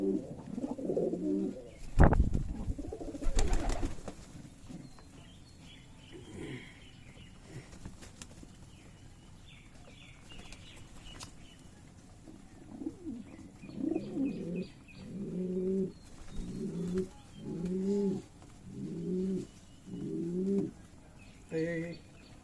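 Rajshahi Giribaz pigeons on a farm: a sharp burst of flapping wings early on, then a quiet stretch, then a run of rhythmic, closely repeated coos near at hand, with a voice talking in between.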